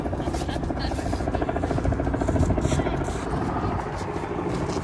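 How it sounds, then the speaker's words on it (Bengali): A helicopter passing over Toronto, a continuous loud rotor and engine drone that swells slightly midway and stays steady throughout, close and dominant. "ওখানে একটা হেলিকপ্টার আর একটা প্লেন পরপর আসতেছে"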